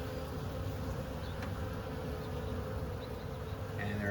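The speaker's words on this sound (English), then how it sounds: "And there are more bees in the air" A steady, dense buzzing of many honeybees around a swarm cluster fills the air continuously, close and loud, with a constant drone throughout.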